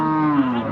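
A native-breed cow moos once, a steady near low call lasting under a second, amid the Wednesday cattle market in Namakkal with livestock for sale.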